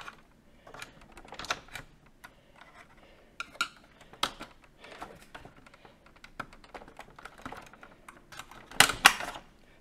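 Someone works the plastic lid off a Melitta or Nivona coffee machine, making faint, scattered clicks and light rattles, with a sharper snap and clatter near the end.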